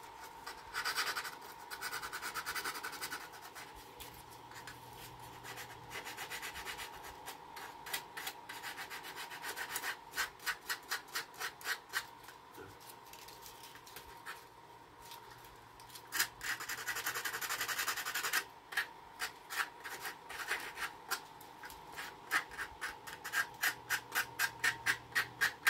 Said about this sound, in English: But I'll go ahead and get some sandpaper. We'll work on that a little bit, make it look better.